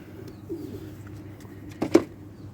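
Pigeons in a wooden training box coo softly at close range, a low murmuring under light background noise, broken near the end by a couple of sharp knocks or scuffles.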